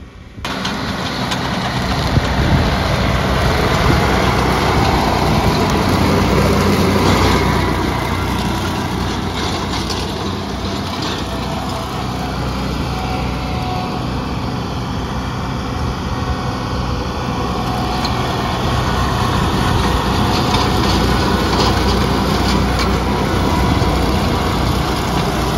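A tractor mows high grass along a farm fence row, its engine running loud and steady for the whole stretch, with a constant mechanical drone and the rough whir of cutting.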